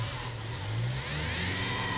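A 2024 GWM Cannon Alpha ute's engine drones under steady throttle with one wheel stuck in a hole off-road, a sustained mid-pitched rev that rises slightly while tyres churn, close and continuous, no speech.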